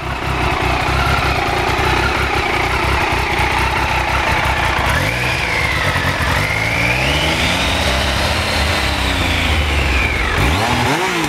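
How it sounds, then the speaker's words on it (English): A 2000 Triumph Sprint RS 955i fuel-injected British motorcycle runs close by, a loud steady engine note with pitch swoops as the revs rise and fall, then a sharp blip near the end. "The 955i fuel injected. Triumph is a British built bike."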